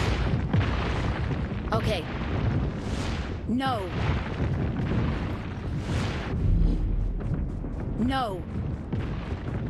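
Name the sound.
gunfire in video game BGMI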